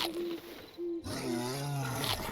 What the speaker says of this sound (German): Voll der Brüller hier. Ist er hinter mir her, der Bär?